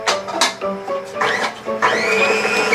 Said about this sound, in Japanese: シシトウとニンニクをミキサーに、 こんな感じで。